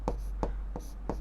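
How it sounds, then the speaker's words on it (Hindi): A teacher writes on a board during a Class 10 maths lesson, four short scratchy strokes spaced roughly evenly apart, close and fairly quiet, with no talking over them. "तो हम लिखेंगे"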